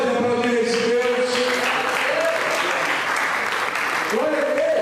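Church congregation applauding, a broad wash of clapping that runs throughout, with a voice or sustained tones rising over it at moments.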